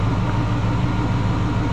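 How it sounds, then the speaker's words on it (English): A car engine runs steadily during a fuel pressure and vacuum test, with the throttle opened. The engine gives a continuous low, even drone at close range, and no voices are heard. "You see it go up to zero when I open the throttle"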